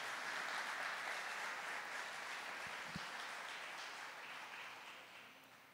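Church congregation applauding during a sermon, a broad steady wash of clapping from many hands that gradually fades toward the end, fairly faint and distant.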